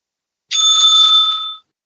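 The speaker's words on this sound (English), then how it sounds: "The timekeeper will ring the bell once." A timekeeper's bell at a debate final rings once, a loud, close, bright metallic ring that holds steadily for about a second before cutting off, with silence around it and no voices.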